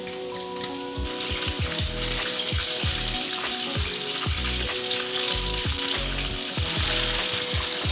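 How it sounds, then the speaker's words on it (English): Goat cheese balls deep-frying in hot oil, a dense, steady sizzle and crackle close up, with occasional clinks of a utensil stirring. "we're gonna get those frying until they come to a golden brown color"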